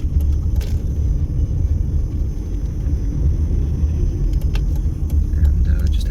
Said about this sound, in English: And just have to maneuver your way through traffic.